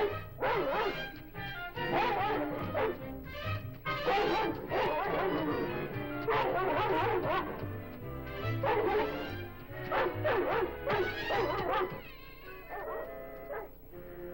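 A dog barks repeatedly in a wild outdoor setting with elk nearby, with loud, rapid bow-wows and yips running steadily for the whole stretch with hardly a pause and no talking.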